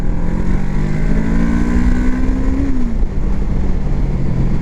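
Derestricted motorcycle, no longer limited to 34 hp, accelerating with a steady droning engine note that climbs in pitch, then drops as it shifts, close and loud over wind rush.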